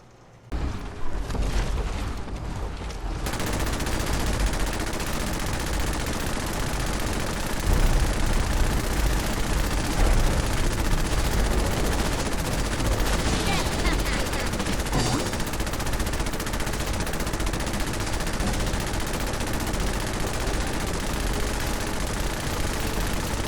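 Minigun from the Fallout 4 Minigun Overhaul mod spinning up, then firing in a long, dense, unbroken roar of rapid shots, loud and close, carrying on for over twenty seconds.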